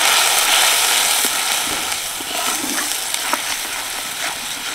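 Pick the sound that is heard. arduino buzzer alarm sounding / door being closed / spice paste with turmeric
spice paste with turmeric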